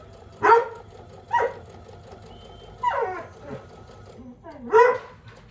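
A dog barks and whimpers in sharp bursts at medium distance, spaced a second or so apart, with a low sewing machine hum running underneath during an Amherst sew-along.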